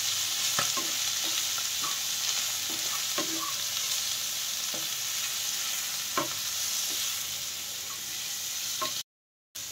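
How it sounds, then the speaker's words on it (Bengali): Sugar, cumin and coriander powder are stirred in a hot pan. A spatula scrapes and taps against the pan at irregular intervals over a constant frying sizzle, and the sound cuts out briefly near the end. "এই দিয়ে একটুখানি নাড়াচাড়া করে নিতে হবে।"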